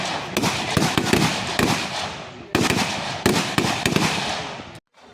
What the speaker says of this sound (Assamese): এইফালে ফায়াৰিং হৈ আছে